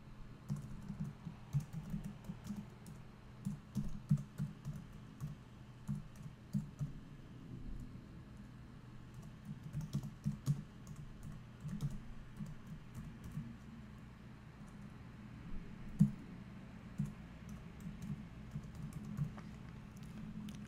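Computer keyboard typing in a quiet room, a long run of irregular light key clicks at close range, heard alone with no talking.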